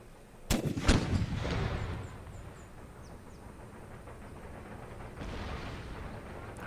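A musket volley in the Empire Total War video game cracks out as a burst of overlapping shots, followed by a lingering rumble and a second softer rolling wave of fire.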